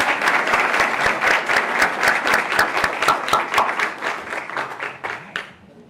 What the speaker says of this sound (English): how about another round of applause for our Enlistees from Harlingen High School